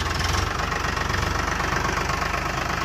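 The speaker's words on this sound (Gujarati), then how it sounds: "તો આ જોઈ લો ખાલી ટ્રેક્ટર ચાલુ હોય." A tractor engine idles steadily with a low, rhythmic chugging throb, close and continuous throughout.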